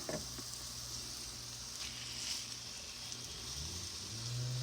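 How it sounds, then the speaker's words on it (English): Salisbury steak patties sear in a cast iron pot with a soft, even sizzle that holds steady throughout, with a low hum and occasional small pops in the background. "All right, we got us a sear together going on. That's what I want to hear."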